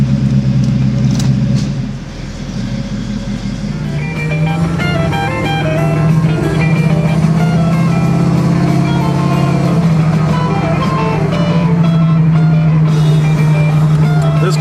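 A 1971 Chevrolet Camaro Z28 muscle car drives along with a steady, loud engine rumble and low drone that rises as it pulls away, while music and voices play over it.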